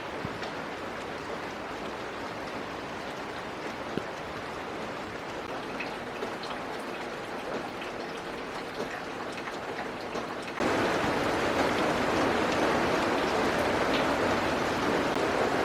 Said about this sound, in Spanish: amo escuchar la lluvia